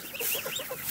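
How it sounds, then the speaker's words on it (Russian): Geese chatter in soft, quick honks and murmurs close by, a busy flock calling while they feed. "Гуси кормятся"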